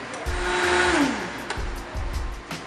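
A blender purees a savory oyster ice cream base with a little salt, its motor whirring steadily and then easing off, followed by a few lower rumbling pulses.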